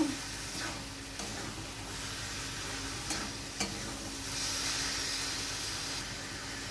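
Minced meat with spices, for keema matar gravy, fries in a pan with a continuous close sizzle and hiss, broken by a few stirring knocks and scrapes.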